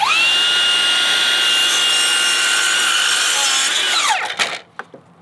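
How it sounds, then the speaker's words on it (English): A Metabo HPT 7-1/4-inch dual bevel miter saw cuts pressure-treated incised hemlock 2x6 in a 90-degree cut. It gives a loud, close, sustained whining buzz for about four seconds, then winds down with a few clunks. "I'm just cutting some pressure treated 2x6, pressure treated hemlock, incised 2x6"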